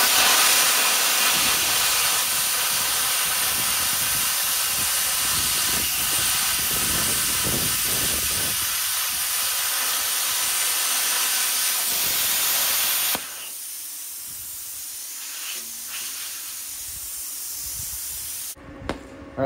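A cutting machine slices through painted metal, giving a loud continuous hissing roar with some sputtering that runs for about thirteen seconds, then stops abruptly and leaves quieter hiss and faint clicks.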